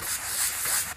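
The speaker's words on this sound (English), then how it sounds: "I take a pretty coarse sanding block." Steady abrasive scraping of a coarse sanding block rubbing back and forth across a drywall repair, close and continuous for about a second.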